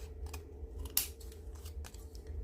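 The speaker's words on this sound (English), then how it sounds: "I'm just going to snip off the white part," Ordinary scissors snip the white border off printed paper for a Wonka-style frame, a quiet crisp cut with one sharper snap near the middle over a steady low background hum.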